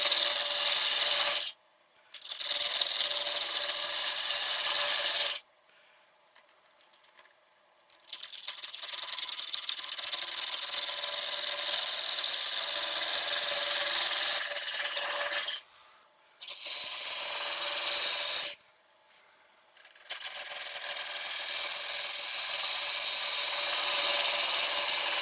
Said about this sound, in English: Now I'm only going to use a small drill on this so I can get this neck fairly thin.